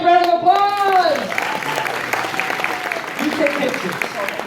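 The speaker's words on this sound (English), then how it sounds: "Big round of applause!" At a live horror make-up show in a theme park, an audience applauds as a performer's voice rings out at the start, the clapping continuing in a steady wash after the speech fades.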